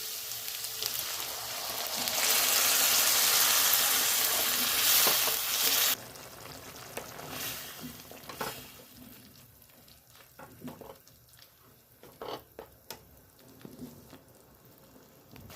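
Tomato gravy tipped into capsicum frying in a pan for paneer tikka masala, a loud hissing sizzle for several seconds that then settles into quieter bubbling and stirring scrapes, with no voices.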